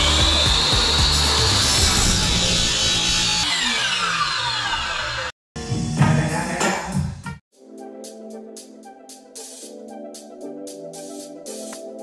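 A miter saw cuts wood in a workshop for a go-kart build, a loud whining cut that sweeps down, breaks off briefly, roars again, then gives way to a quieter run of rapid clicking taps.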